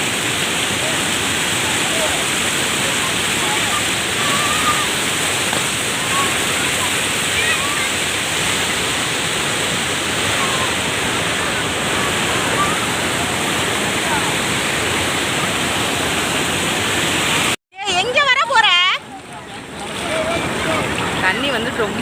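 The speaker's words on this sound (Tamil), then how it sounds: "தண்ணி வந்து ரொம்ப அதிகமாகவே போகுது." Steady, loud broadband roar of rushing water fills the scene, broken by a sudden brief handling thump and shuffle near the end.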